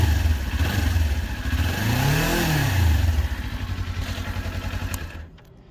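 A brand-new 2023 Kawasaki Ninja 400 KRT motorcycle engine revs up from idle, climbing to a high-pitched peak and falling back, then settles into a steady idle before cutting off, loud and close with no talk.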